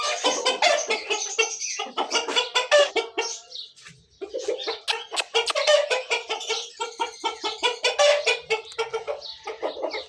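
Aseel roosters cluck and squawk continuously and loudly at close range in a village, a busy run of sharp, overlapping calls with only a brief pause midway.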